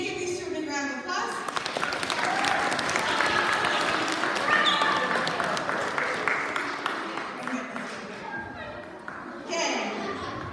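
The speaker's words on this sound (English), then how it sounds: "Okay, give these two a big round of applause." Students at a school safe-routes assembly clap for two classmates, a dense burst of applause mixed with children's chatter that swells and gradually fades.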